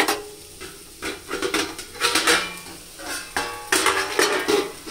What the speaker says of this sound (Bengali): এদিকে দেখো আলু করলা ভাজা এটা হচ্ছে